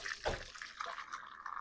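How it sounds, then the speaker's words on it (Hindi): Chicken stock water poured through a sieve to strain out the spices, a short quiet splash of liquid trickling into a vessel, faint and close. "अब इस पानी को हम छान लेंगे"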